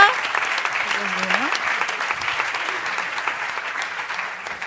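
Sustained audience applause for a maths teacher at an open-data café event in Barcelona, a dense steady clatter of many hands filling the room from start to finish, with a brief voice rising faintly beneath it early on.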